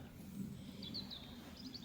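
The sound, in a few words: birds chirping outdoors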